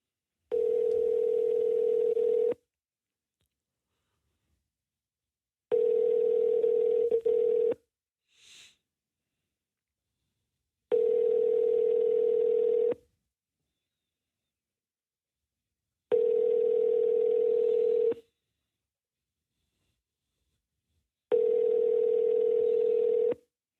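A phone line rings while a podcast host calls a guest. Five long, even tones of about two seconds each repeat at regular intervals, separated by silence, and a brief faint blip falls in one gap.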